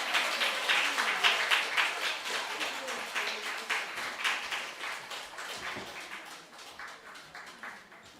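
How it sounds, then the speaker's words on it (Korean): Audience clapping in a church hall at a family worship service, welcoming a speaker to the front; steady, moderately loud applause from many hands that slowly tapers over about eight seconds. "우리 홍태성 효동을 큰 박수로 환영하시겠습니다"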